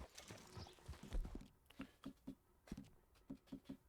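Horse hooves clip-clop at a walking pace in the Red Dead Redemption 2 video game, a quiet rhythmic series of soft thuds close by, with a faint snort or movement early on.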